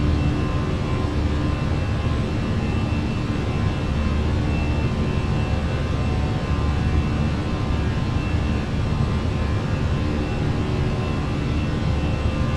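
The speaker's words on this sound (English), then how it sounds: "Give you a nice little wing view of the power coming back here in a sec." Airbus A319 jet engines in the Fenix flight simulator spooling down as power comes back, a steady, dense broadband roar with a low rumble and faint tonal whine, continuous and loud throughout with no talk.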